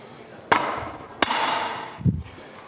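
A hammer strikes a piece of iron on an anvil, two sharp ringing blows with a lingering metallic decay, followed by a duller, softer knock.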